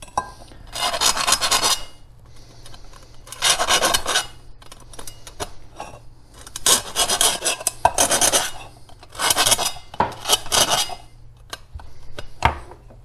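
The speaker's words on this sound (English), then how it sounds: "we could take a file and we could try and clean this up a little bit" Hand filing rasps against metal edges of a homemade alcohol stove in repeated bursts of strokes, with short quiet gaps and light clinks between them, close and fairly loud.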